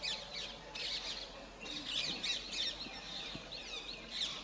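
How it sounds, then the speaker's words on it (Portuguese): A crow caws harshly while attacking a vulture outdoors, giving a few scattered squawking calls over a steady background of birdsong and chirping. "O corvo está a atacar o abutre."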